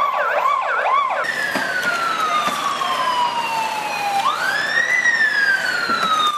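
A fire engine siren wails loudly and continuously as the truck arrives at a burning health centre, its pitch sliding steadily down, then sweeping back up into a new cycle near the end, after a brief warbling tone at the start.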